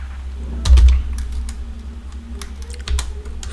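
Computer keyboard being typed on up close, a quick run of crisp key clicks with a heavier thump near the start and a few louder taps toward the end.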